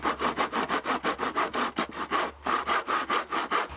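A saw cuts through a wood siding piece held against a jig in quick, steady rasping strokes, close and loud, with a brief pause before the strokes resume.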